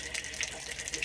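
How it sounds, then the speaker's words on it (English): Water gushes steadily out of an opened valve while flushing an RV hot water tank, a continuous hissing splash with small bubbling spikes, close by. "as soon as I release this valve, water's coming out."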